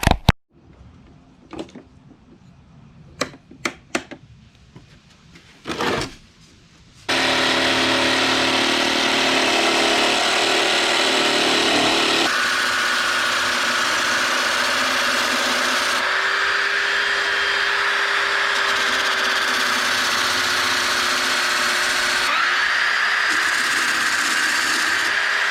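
Power tool trimming wood for a custom entertainment center wall unit: after a few scattered knocks, a loud steady whirring drone starts and runs continuously close by, its pitch shifting slightly partway through, with no talk.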